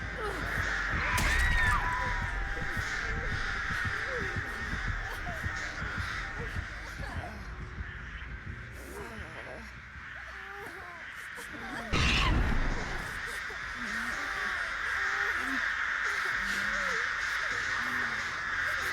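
Crows in the video game Dead by Daylight caw repeatedly, harsh calls scattered across the scene over a throbbing game ambience, with a player's voice talking at times.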